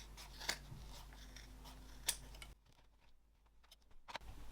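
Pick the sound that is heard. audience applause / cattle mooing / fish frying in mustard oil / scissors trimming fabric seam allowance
scissors trimming fabric seam allowance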